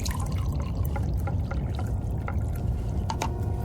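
Coffee poured from a pot into a cup in a radio drama scene, a steady liquid stream running under a constant low background for several seconds, with a few faint clinks.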